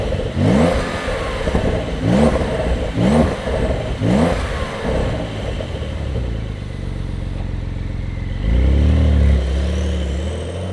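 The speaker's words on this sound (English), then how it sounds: "let's fire it up and hear what it sounds like" A 2024 Porsche 911 Carrera T flat-six engine cranks and catches, then barks through several sharp, evenly spaced revs close by, settling into a rumbling idle before one more deep surge.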